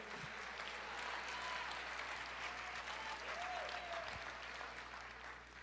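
A church congregation applauds during a sermon, a steady, even wash of many clapping hands heard from a distance, soft and continuous throughout with a low hum underneath.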